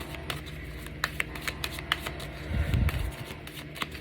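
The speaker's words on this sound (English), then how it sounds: "This is a good shuffle." A deck of cards being shuffled for a tarot-style reading, with repeated quick riffling snaps and a fuller bridging flutter near the end, close and distinct with no voice over it.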